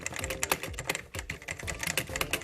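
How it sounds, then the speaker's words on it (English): Rapid clacking of keys on a Cooler Master Novotouch TKL mechanical keyboard, an uneven flurry of crisp taps close up with no talking. "This thing is it's a Cooler Master Novotouch TKL keyboard"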